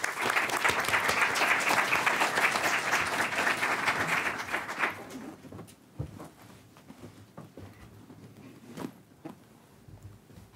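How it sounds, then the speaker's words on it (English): An audience at a congressional briefing on lupus research claps loudly and steadily for about five seconds, then the applause fades into a few scattered claps and room noise. "Let's have a good round of applause for Dr. Katz."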